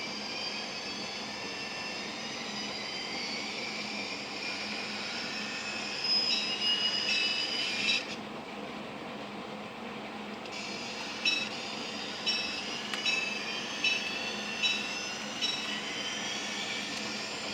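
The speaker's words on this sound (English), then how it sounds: "So we'll crank up the throttle." A model train runs on a layout under Digitrax DCS51 Zephyr throttle control, giving a steady, fairly quiet hum with a brief louder stretch and a few soft clicks and squeaks near the end, and no talking.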